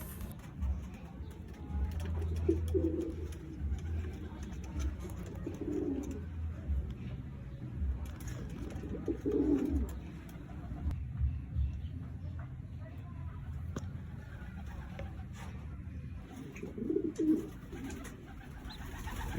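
Domestic pet pigeons on a rooftop give low, throaty coos in several separate bursts over a steady background hum.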